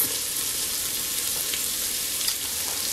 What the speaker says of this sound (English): We're just browning the outside here to get those flavorful bits